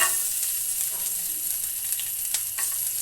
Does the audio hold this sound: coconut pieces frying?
yes